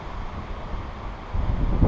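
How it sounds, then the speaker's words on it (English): Strong wind buffets a microphone outdoors in a canyon, a rough low rumble that swells louder toward the end, with no talking. "It's really windy out, so hope you can hear me."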